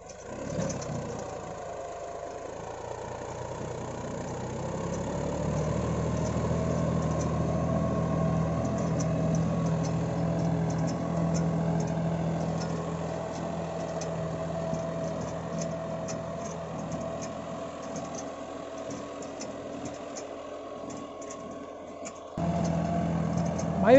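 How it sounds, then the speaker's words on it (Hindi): A tractor engine labours while stuck in loose, collapsing soil, a steady low droning roar that swells in the middle and then eases, with a sudden louder surge at the very end. "यहाँ से फिर ट्रैक्टर फंस गया, क्योंकि बहुत एकदम मिट्टी हट गई"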